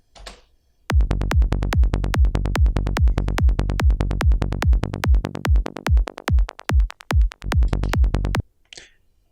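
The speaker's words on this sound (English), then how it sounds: "we're just going to apply a high pass filter to our bassline" A psytrance bassline runs through a high-pass filter: fast, rolling pulses driven by a kick, loud and close, thinning and stuttering in places near the end before cutting to quiet.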